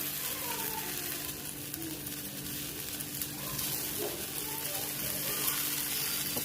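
Mutta ponganalu batter sizzles and fries steadily in a paniyaram pan, a continuous close crackle with faint background hum and no talking.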